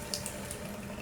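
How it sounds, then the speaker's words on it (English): A faucet left running just a tiny bit to keep pipes from freezing, giving a soft, steady trickle of water that stays close and even for the whole moment, with no talking. "Another thing you can do is just turn on the water just a tiny bit"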